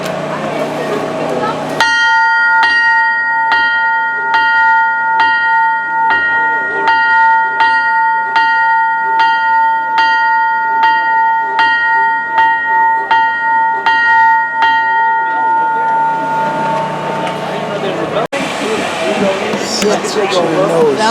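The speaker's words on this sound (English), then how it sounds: "This one is a bell." A bell rings repeatedly in an even, steady rhythm at a railroad museum. The strikes are loud and clear and stop abruptly partway through, leaving faint background noise.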